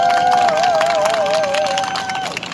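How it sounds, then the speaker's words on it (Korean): A crowd at an outdoor anti-poverty protest rally claps and cheers in a steady burst, with a sustained high tone wavering over the applause. "박수 한번 부탁드립니다."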